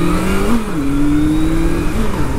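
A 2013 Honda CB1100 motorcycle runs at a steady engine drone while being ridden. The pitch dips slightly and then holds level under wind noise, with no talk.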